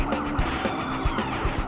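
A pickup truck tears down a Missouri state highway at top speed during a police chase, its engine roaring steadily with tire noise and rushing wind, loud and continuous throughout.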